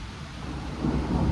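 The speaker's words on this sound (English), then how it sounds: "Thunder and lightning." Thunder rumbles low and steady beneath rain falling during an outdoor thunderstorm, the rolling roar building and growing louder toward the end, with no voices.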